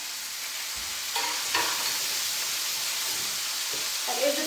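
Seasoned shrimp sizzling in a hot pan, a steady bright frying hiss with a few soft clinks and stirring knocks, no talk.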